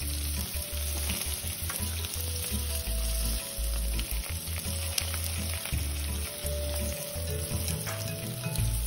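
Tofu skin deep-frying in hot oil, a continuous close sizzle with occasional stirring clatter over a low steady hum, no voices.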